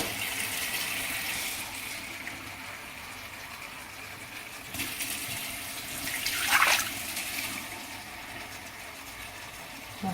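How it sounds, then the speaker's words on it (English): Water pours in a steady gush into a metal pot, swelling briefly midway, with a faint hiss underneath and no talking. "So I'll just pour water."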